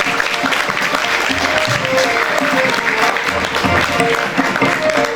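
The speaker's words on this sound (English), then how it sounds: "Audience, keep clapping." Steady applause from a school audience at an awards ceremony, dense and sustained throughout, with faint crowd murmur mixed in.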